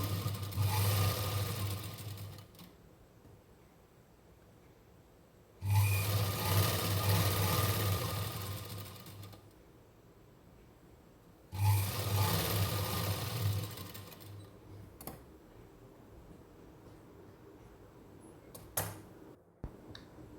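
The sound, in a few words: sewing machine stitching an overlock seam on fabric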